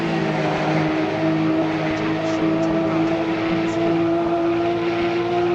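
GT3 race cars roar past at Spa heading down towards Eau Rouge, a loud, sustained engine howl with steady high tones and a commentator talking over it.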